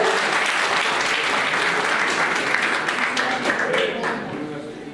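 An audience at a seminar breaks into sustained applause, a dense steady wash of clapping that holds for several seconds before easing slightly at the end.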